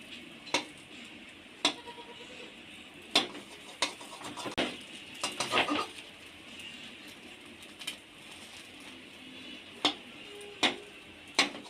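Knife chopping an egg dish into five pieces on a board in a home kitchen making egg curry with spiny gourd: sharp, separate ticking taps spaced out, a short cluster in the middle, with no talking.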